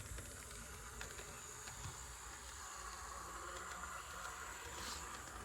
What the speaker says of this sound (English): Yeah, it starts right up.